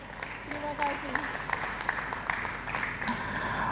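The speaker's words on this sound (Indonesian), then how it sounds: "Boleh kita berikan tepuk tangan yang meriah Bapak dan Ibu" Audience applause at a Man of the Year 2020 evening awards event, a steady spread of clapping through the whole stretch, with voices and a short vocal tone sounding faintly underneath.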